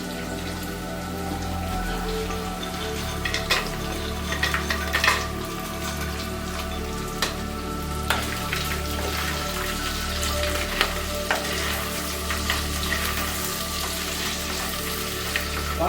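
Vegetables and chilies frying in a pan on the stove, a steady close sizzle with scattered crackles and pops running throughout, no talking.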